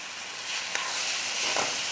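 Mashed eggplant bharit mixture sautéing in a pan, a steady close sizzle with a couple of brief scraping stirs, alone without talk.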